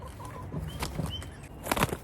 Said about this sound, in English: that rooster's loud